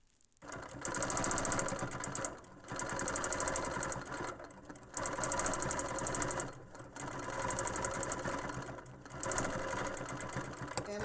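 A sewing machine stitching along a hexagon quilting ruler, running in five bursts of rapid, even mechanical whirring separated by brief pauses, close and fairly loud with no voices.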